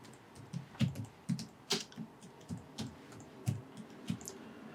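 Typing on a computer keyboard, a run of distinct key clicks in an uneven rhythm, close and fairly quiet, with no voices.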